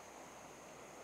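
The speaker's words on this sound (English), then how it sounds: "You might be able to hear the creek behind me." A small creek flows in August, heard as a steady, soft rushing wash with no voices.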